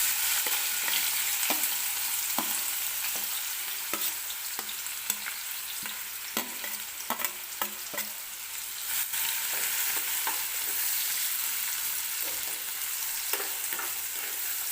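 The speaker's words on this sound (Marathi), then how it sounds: "तर तेल व्यवस्थित गरम करून घ्यायचं आहे सुरुवातीला. आता मी टाकणार आहे बारीक चिरलेला कांदा" Finely chopped onion for pav bhaji frying in hot oil gives a steady, dense sizzle throughout, with sharp clicks and scrapes from stirring spaced irregularly over it.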